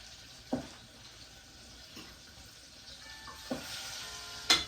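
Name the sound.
spicy pig tails deep frying in an old deep fryer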